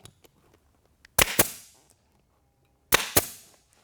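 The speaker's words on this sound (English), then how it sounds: "I've got this handy little staple gun here. It's an air stapler and it works really well." Air-powered staple gun drives staples into an ATV seat cover, giving two quick pairs of sharp, loud snapping shots with short hissy tails, separated by quiet pauses and faint handling noise.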